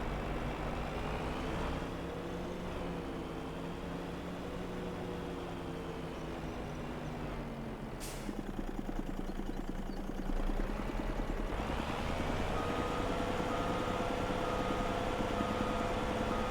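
A truck's engine in Farming Simulator 25 drones steadily and close by as it maneuvers. The pitch shifts midway as it changes speed or gear, with a brief high click near the middle and no talking.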